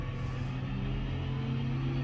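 Tractor diesel engine idling at standstill as it raises its revs on its own for exhaust regeneration, a steady close low hum with a faint rising tone, alone with no voices.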